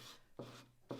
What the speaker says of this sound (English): sand back.